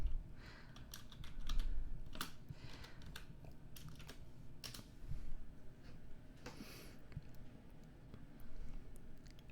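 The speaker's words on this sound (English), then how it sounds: "I'm only typing with one hand." Someone types on a computer keyboard using only one hand, producing irregular bursts of close key clicks with pauses between them.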